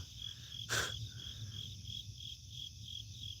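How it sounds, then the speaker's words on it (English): Crickets chirp at night at a campsite, a faint high steady pulsing trill that carries on throughout, briefly broken by one short sharp noise near the start. "You hear the crickets?"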